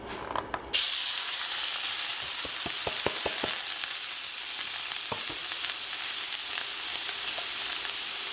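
Shrimp sizzle loudly in a frying pan with chorizo for Spanish-style spaghetti, a steady broadband hiss that bursts on after a short opening clatter, with scattered pops and crackles through the continuous frying.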